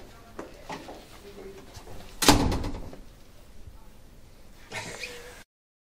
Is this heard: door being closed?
yes